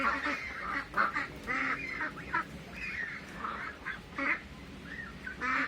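Young ducklings of about one and a half to three months, females among them, quack repeatedly in short, fairly loud bursts over a steady background, with no talking.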